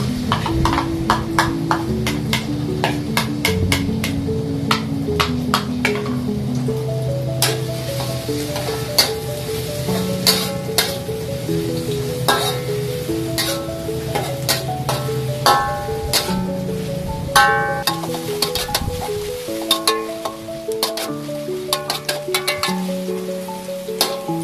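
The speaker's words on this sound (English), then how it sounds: "stir fry the garlic and the bawang besar" Garlic and onion sizzle and crackle steadily in a hot pan for a minced beef popiah filling, with a continuous close frying hiss and regular spatula scrapes and taps against the pan.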